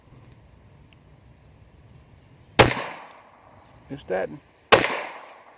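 An FN Browning 1910/23 pistol fires .32 ACP rounds, two sharp loud cracks a couple of seconds apart, with a brief voice speaking between them outdoors.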